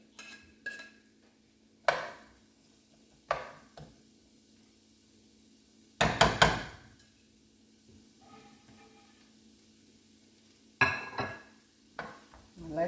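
Chopped celery and onion sautéing in a pan for a cornbread dressing, with a faint sizzle underneath and several sharp clanks and scrapes of a utensil stirring against the pan.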